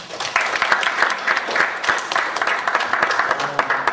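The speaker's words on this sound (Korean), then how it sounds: "다시 한번 좋은 강의해 주신 그 선생님께 박수 부탁드리겠습니다." Audience applause for a lecturer at a Korean seminar on global healthcare, sharp, dense clapping from a sizable crowd, loud and sustained with individual claps standing out.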